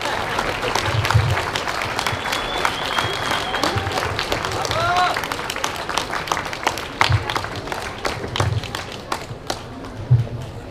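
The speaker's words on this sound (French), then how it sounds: "Donc ils méritent vraiment vos applaudissements." Audience applause at a Japan-themed cosplay contest, a dense steady patter of clapping from a crowd that runs throughout with a few louder claps standing out near the end.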